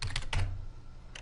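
Quick, close keystrokes tap on a computer keyboard, a short burst of several clicks followed by a pause and one more tap.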